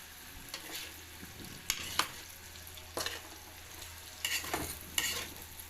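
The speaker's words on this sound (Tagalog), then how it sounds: "Halo laang ng halo. Hanggang mag-isa ng ayos ang bawang at sibuyas." Garlic and onion frying in a pan with a soft continuous sizzle, while a spoon scrapes and clatters against the metal in irregular bursts, several louder knocks standing out near the middle and end.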